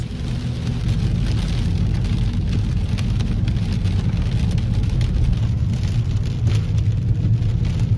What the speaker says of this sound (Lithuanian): Ir tai ne lietus, tai tikra liūtis.